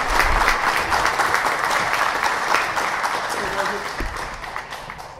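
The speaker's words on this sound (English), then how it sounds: "Another round of applause for our wonderful performance." Audience applause follows a youth performance of Gossec's Gavotte at a West Valley Youth Summer Camp event, a steady wash of many hands clapping at close range that holds for several seconds and tapers slightly at the end.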